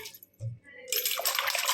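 Water poured into a pot of basale (Malabar spinach) greens for a basale and papaya curry, a brief low splash followed by a steady, close pouring rush that runs to the end.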